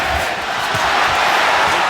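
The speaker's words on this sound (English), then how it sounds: "There's the crowd, you know." A boxing match crowd roars steadily, a dense, loud wash of cheering and shouting with no breaks.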